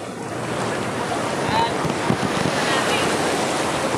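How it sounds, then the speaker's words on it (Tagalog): Surf breaking along Matabungkay beach in Batangas, a steady broadband wash of waves with wind buffeting the microphone, continuous and fairly close, with no talking. "Ito tayo sa may alon."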